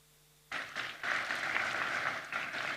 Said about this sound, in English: du secrétariat dirigée par M. Wankele Mene, que je vous demande d'applaudir s'il vous plaît